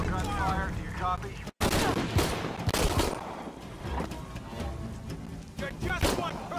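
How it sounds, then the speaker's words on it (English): Gunfire in the video game Shadow of the Tomb Raider, bursts of rapid shots and fusillades with a brief silent gap, mixed under game dialogue voices. "Need to confirm reports of more gunfire."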